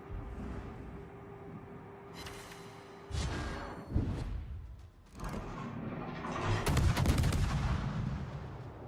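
Naval gunfire in World of Warships aimed at the enemy ship Vyasma, with heavy booming salvos and rumbling blasts that build and repeat over several seconds, loud and close.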